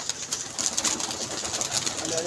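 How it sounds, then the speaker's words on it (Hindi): A pigeon at a pigeon club comes down to land, with a steady wash of fluttering and soft cooing against outdoor background noise, faint and distant throughout. "वो कबूतर उतर रहा है"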